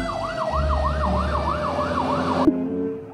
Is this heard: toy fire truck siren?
yes